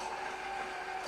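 A milk-equipment cleaning machine finishing its cycle hums and whirs steadily at moderate volume, a constant mechanical drone with no speech over it.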